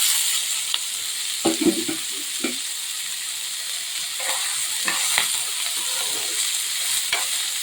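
Crackling sizzle of black gram (urad dal) frying in oil, with several scraping stirs of a spoon against the pan.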